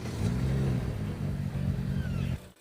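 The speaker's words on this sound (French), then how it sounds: "écoutons un extrait sonore d'origine pour voir comment ça sonne au coup de gaz tel quel." A BMW 335i with its stock exhaust revs up, a deep, steady engine drone held for about two seconds before cutting off abruptly.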